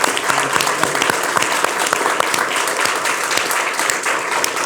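A studio audience breaks into sustained applause, dense clapping from a crowd that stays steady and fairly loud for the full few seconds.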